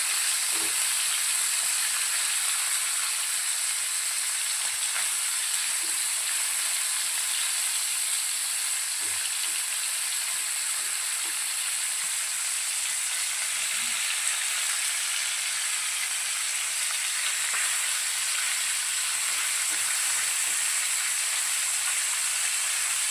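Mackerel pieces fry in a pan, giving an even, sustained sizzle and hiss with faint scattered pops throughout, close up and without any voices.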